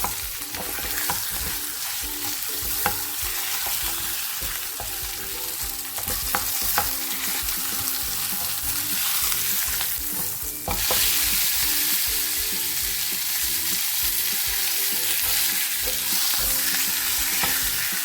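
Steak sizzling steadily in a hot pan alongside vegetables, a continuous loud frying hiss with scattered clicks and scrapes of stirring, and a brief shift near the end as the meat is flipped.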